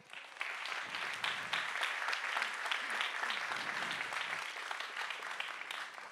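Applause from the audience at a science slam event, a full crowd clapping steadily at moderate loudness for several seconds, with some voices mixed in beneath the clapping.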